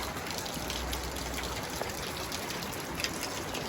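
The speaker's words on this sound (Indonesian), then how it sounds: "ini suasana hujan di kampungku" Steady rain pours down across a village, a dense, continuous hiss and patter heard up close with a few louder drops, and no voices.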